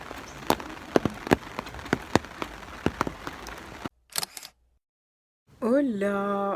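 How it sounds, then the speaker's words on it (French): Rain falling outdoors on a July day, a steady patter with sharp clicking drops scattered through it, then an abrupt cut to near silence and a burst of music. "Faudra m'expliquer c'est quoi cette pluie"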